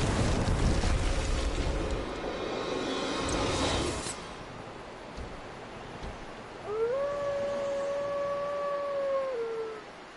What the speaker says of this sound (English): That's one big dog.